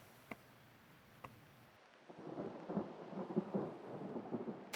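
Thunder crash in a video game thunderstorm, rising after a quiet opening with a couple of faint ticks, then a loud rolling rumble with crackling bursts that sustains to the end.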